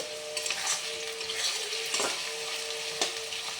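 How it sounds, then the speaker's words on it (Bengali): Onions frying in a pan give a steady, moderately loud sizzle, broken by a few sharp crackles and light stirring. "পেঁয়াজটা লাল লাল করে একটু ভাজতে হবে।"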